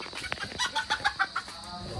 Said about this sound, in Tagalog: Ang lalaki ng manok.